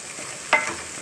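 Ivy gourd curry masala with red chilli powder stirred in a frying pan: one short ladle scrape over a faint background sizzle.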